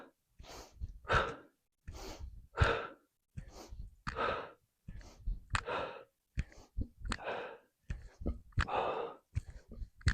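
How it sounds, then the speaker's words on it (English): Deep breaths during a runner's cross-training breathing exercise: about ten loud, airy inhales and exhales in a steady rhythm, each a burst of breath separated by short pauses, close to the microphone. "I'm going to go inhale, exhale."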